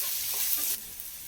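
Onion and tomato with garam masala sautéed in a pan, a bright close sizzle with a quick stir that drops slightly quieter midway.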